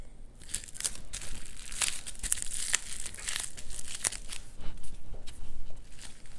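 Paper wrap crinkles and crumples as it is pressed onto glued green paper for a cucumber wall decoration, a run of close, irregular crackling bursts with short pauses between them.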